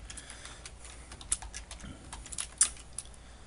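Quiet, close typing on a computer keyboard: a run of light, irregular key clicks with a few sharper taps, and nobody speaking.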